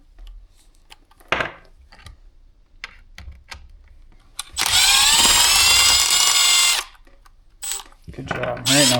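A cordless power drill spins out screws from a Husqvarna chainsaw, starting with one short burst and then a sustained whirring run of a couple of seconds, close by, with scattered clicks and brief talk in between.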